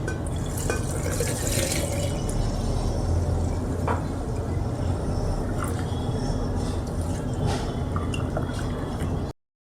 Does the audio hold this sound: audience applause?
no